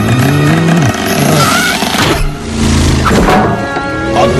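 Cartoon rescue-boat engine from the animated series Elias, a chugging, revving motor running loudly and continuously with harmonic drones that swell and dip, close up with no talk over it.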